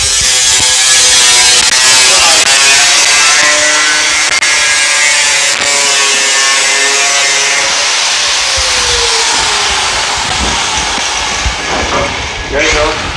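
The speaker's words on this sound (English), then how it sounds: "So we'll get one going with the DA." Dual-action sander grinding rust off a metal surface, loud and continuous with a rough whirring drone and fluctuating pitch throughout, close by.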